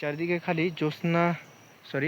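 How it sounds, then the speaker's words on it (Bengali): Crickets in a Western Ghats forest in Kerala keep up a steady, high chirring throughout, beneath someone talking close by. "চারিদিকে খালি ঝিঝি পোকার আওয়াজ"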